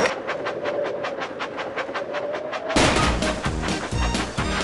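A cartoon train engine in the Thomas & Friends Magical Tracks game chugs in rapid, regular puffs, then breaks into a louder, busier clattering rhythm as it speeds along the track, with no talk.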